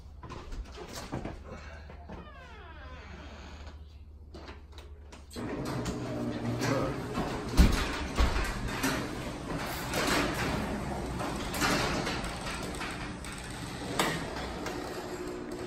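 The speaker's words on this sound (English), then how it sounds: "I'm gonna put the garage door down." A residential garage door being pulled down on its tracks, starting with a rattling roll and then a louder, steady mechanical rumble with clanks and thumps close by.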